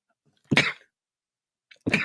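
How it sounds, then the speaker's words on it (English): Two sharp sneezes about a second apart, close and abrupt, with silence around them. "a sneeze. Sorry."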